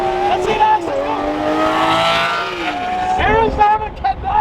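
A Lamborghini Murcielago drives on an Arizona road, its engine note climbing and falling through gear changes, loud and close, with a person talking over it.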